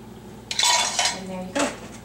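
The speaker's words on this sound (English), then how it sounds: "I'm going to just pour this into my batter." Liquid mixture poured into banana bread batter in a bowl, with close clinks of utensils against the dish in two short bursts.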